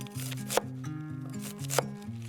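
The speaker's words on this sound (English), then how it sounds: "And then we're gonna slice them into about 1/2-inch pieces." A knife slices cabbage into half-inch pieces on a counter, with two sharp, distinct chops standing out over a steady bed of background music.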